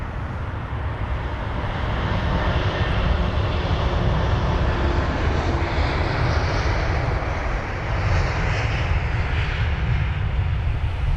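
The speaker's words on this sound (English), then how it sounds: "whilst we watch this aircraft climb out of London Heathrow" A Boeing 787-10 Dreamliner airliner climbing out of London Heathrow after takeoff, a steady loud broadband engine roar that holds evenly throughout, with no voices.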